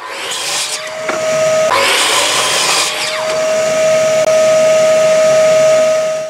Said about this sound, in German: Und da schneiden wir uns ein Teil 18 mal 10 cm Stück raus.